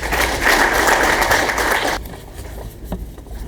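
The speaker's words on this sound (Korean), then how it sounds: "큰 박수 부탁드립니다." A crowd at a Korean economic forum claps loudly for about two seconds, then the applause stops and only quieter room noise remains.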